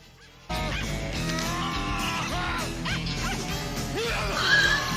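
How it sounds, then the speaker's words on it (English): A dog from the 1994 film Ace Ventura: Pet Detective barks and yips in a quick run of sharp bursts over film background sound and music. "I love the way he barks."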